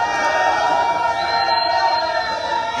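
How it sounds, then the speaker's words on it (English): Crowd cheering rises from the back during the president's outdoor inspection of a newly built broadcast complex near Monrovia, Liberia, a steady, distant wash of voices with no single standout shout. "you can hear the cheering at the back."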